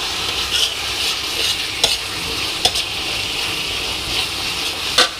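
Ginger, chili, garlic and cumin pastes sizzle in hot oil while being stirred, a steady frying hiss broken by several scraping clacks of the spoon against the pan, close and fairly loud with no voices.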